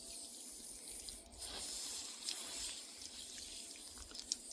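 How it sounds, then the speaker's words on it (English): Fresh mulberries are rinsed under a running tap, a steady close hiss and splash of water with small shifting spatters as the fruit is handled, no talking. "So I just want to wash them off first."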